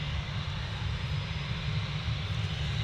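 A British Airways airliner departing Manchester Airport gives a steady, loud engine roar that holds evenly throughout with no talking over it.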